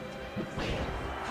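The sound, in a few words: up smash attacks hitting in Super Smash Bros. Melee video game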